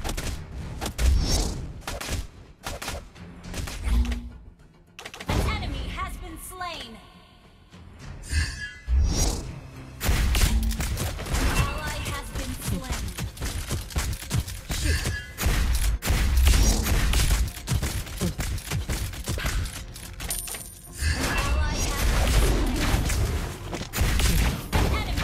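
Lesley fires in a mobile battle arena game, with repeated sharp shots, thuds and booms layered over a busy mix of game effects and music that runs almost nonstop.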